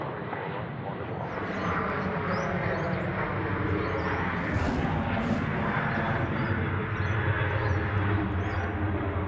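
Airliner landing on runway 34 right at Sydney Airport, a loud, sustained roar of jet engines rolling past, heard outdoors beneath air traffic control radio chatter.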